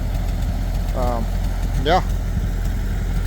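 A Ford 8N tractor engine idles steadily and fairly loud through the whole stretch, a low continuous rumble, while someone says a word and a short voiced sound rises over it.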